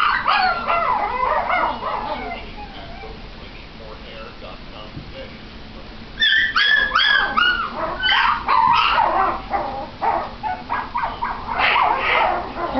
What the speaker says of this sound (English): These are Shih Tzus, one half Shih Tzu and one half Poodle.